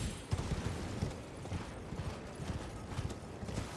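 A horse clip-clops along at a steady trot while being ridden in Elden Ring, close rhythmic hoofbeats repeating throughout over a soft ambient wash, with no talking.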